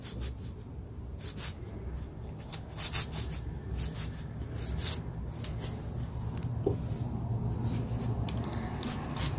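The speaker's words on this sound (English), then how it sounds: "trying to carefully scrape this off without scraping this bed up too much" A razor blade scrapes cured resin off a 3D printer build plate in a steady run of short, gritty rasping strokes, close and fairly quiet, with no talking.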